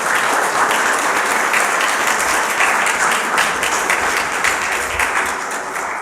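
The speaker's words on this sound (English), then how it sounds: "would you give them a round of applause?" A congregation at a Christmas Eve church service applauds a pageant and an intergenerational orchestra, a full sustained round of clapping that tapers slightly at the end.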